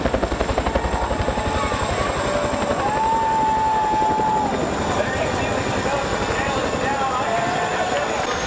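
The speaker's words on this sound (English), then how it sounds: "This helicopter delivering a race car with style at the Texas Motor Speedway." A loud helicopter carrying a race car at Texas Motor Speedway drones with rapid rotor chop throughout, joined by whining engine tones that rise and fall over a dense mechanical rumble.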